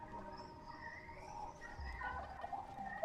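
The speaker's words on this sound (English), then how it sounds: "Hello, chicken." A fowl in the video game Sable gives soft gobbling, clucking calls over a quiet game background, fairly faint and continuous with no speech.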